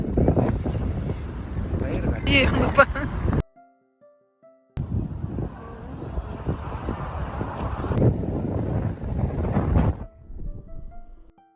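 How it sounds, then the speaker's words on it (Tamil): Strong winter wind buffets the microphone outdoors in loud, rumbling gusts while people talk over it, cutting out briefly before returning and easing toward the end. "செம்ம காற்று வேற நம்மளால சும்மாவே உட்கார முடியல"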